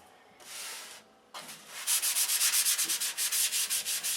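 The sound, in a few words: sanding doped poly tissue with 320 grit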